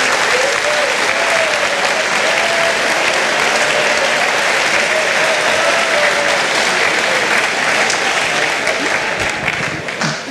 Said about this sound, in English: let's have a round of applause for the faculty advisors